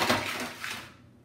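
Metal cookie sheet for rock cakes being handled, a short clattering rattle that fades out within about a second.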